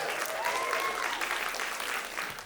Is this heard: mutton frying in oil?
no